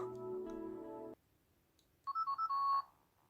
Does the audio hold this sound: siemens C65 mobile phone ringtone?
yes